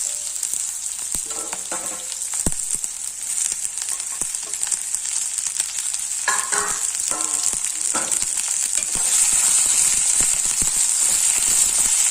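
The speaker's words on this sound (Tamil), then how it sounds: "வெங்காயம் வதங்கிட்டு இருக்கும்போதே நம்ம இந்த வெண்டைக்காய் உள்ள சேர்த்துடலாம்." Sliced okra and onions sizzle steadily in a hot oiled pan, a close, continuous crackle broken by occasional scraping stirs and light clinks.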